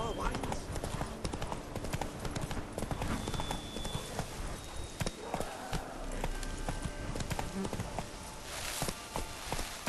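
A horse gallops in The Witcher 3: Blood and Wine, its rapid, steady hoofbeats drumming close throughout, with a voice talking over the pounding rhythm.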